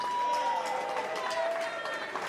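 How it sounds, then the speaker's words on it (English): A crowd at a professional fight event applauds and cheers in a sustained, dense wash of clapping and voices, steady in loudness throughout. "big round of applause for both of these professional fighters"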